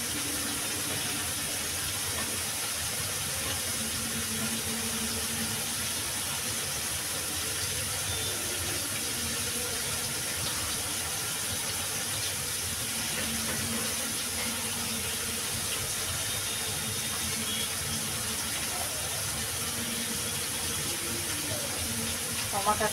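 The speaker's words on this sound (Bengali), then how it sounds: "এই যে দুটো টমাটো নিয়েছি, টমাটো দুটো ধুয়ে নেবো আমি" Tap water runs steadily over two tomatoes in a home kitchen while a coconut prawn curry is being prepared, a continuous even gush with faint splashes lasting the whole stretch.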